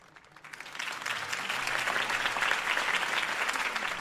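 Campaign rally crowd bursts into applause after a candidate's speech, starting thin and swelling within a second into dense, sustained clapping that stays loud to the end.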